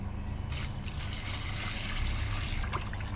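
Water pours and trickles steadily off fish being washed after salting, a close, continuous splashing stream that runs throughout.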